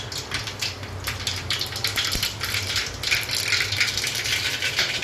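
Mustard seeds and whole cumin pop and crackle in hot oil while a Gujarati mutthiya and pea curry is being tempered. The rapid, irregular spattering continues close by and nobody speaks.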